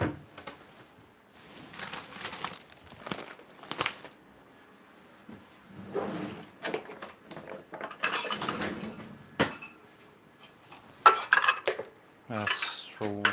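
Utensils measure and scoop flour for a cake, clinking and tapping against bowls and containers. The scrapes and knocks are quiet and come in irregular bursts, with pauses in between.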